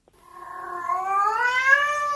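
A feral cat hidden behind an armchair lets out one long, drawn-out yowl that rises steadily in pitch, close and clear, with no other sound around it.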